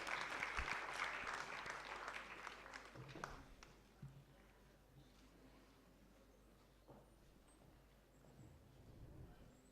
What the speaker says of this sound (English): Let us have a huge round of applause for Ms.